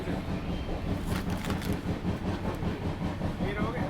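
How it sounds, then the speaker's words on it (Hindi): Millennium Express (Ernakulam to Delhi Hazrat Nizamuddin) rushing past in the opposite direction, heard from aboard a moving train: a dense, continuous roar with rapid rhythmic clatter and wind-like rumble, loud and close. "तो ये आ रही है सामने से मिलेनियम एक्सप्रेस, एर्नाकुलम दिल्ली हज़रत निज़ामुद्दीन"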